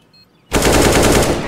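Gunfire in Counter-Strike: Global Offensive: after a brief near-silent moment, a loud, sustained rapid-fire burst erupts and keeps rattling to the end.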